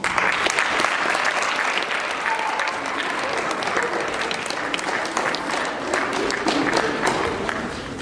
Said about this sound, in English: for the rest of us to compliment them with our applause